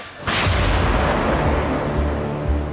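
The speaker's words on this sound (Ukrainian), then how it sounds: "Постріл!" One powerful artillery blast erupts suddenly, its deep boom rolling and reverberating for several seconds afterward.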